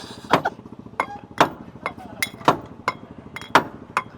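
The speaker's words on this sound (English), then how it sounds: "We're gonna put it on there and we gotta hammer it." A hammer strikes a piece of wood in a series of sharp, bright knocks, roughly evenly spaced, some ringing slightly like metal, close and moderately loud with no speech.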